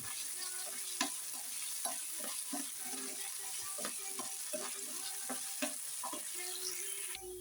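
Potatoes frying and being stirred in a pan, with a steady sizzle throughout and repeated scraping stir strokes, close and moderately loud, no talking.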